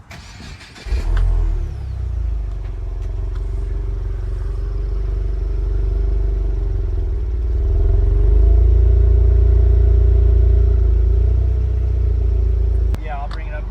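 Subaru WRX with a stainless steel aftermarket exhaust, engine held at a steady raised idle around 3,000 rpm for several seconds with a deep droning tone, close and loud, dropping off near the end; faint voices before it starts.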